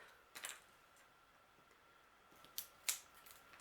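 Scissors snipping through card stock while trimming a small bluebird piece for a handmade springtime greeting card: a faint snip near the start, then two sharper cuts close together near the end, quiet and close with no talking.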